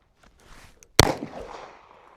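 A single sharp pistol shot cracks out at close range during forest shooting practice, followed by a short decaying echo through the trees after faint handling noises.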